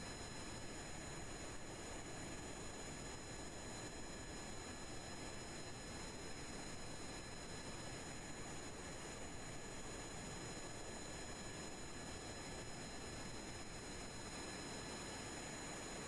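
A steady airplane engine drone in a rocket-building video game, a constant, even whine and hiss during the landing approach, unchanging and fairly faint, with no talking.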